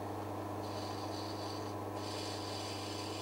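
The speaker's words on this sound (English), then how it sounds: "Just grinding gently until we get the sand to show halfway up the colour bar or above the colour bar" A black opal is ground gently on a grinding wheel, giving a steady, even rasping hum with a constant motor drone underneath and a brief shift in pitch midway.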